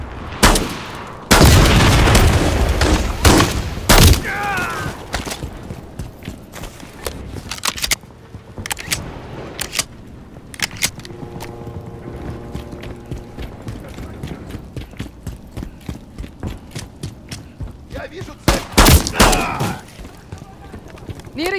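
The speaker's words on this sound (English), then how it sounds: "There's enemy fire!" Enemy gunfire in Call of Duty, loud bursts of shots at the start and again near the end, with scattered mechanical clatter and voices in between.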